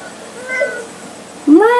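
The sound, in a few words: house cat meowing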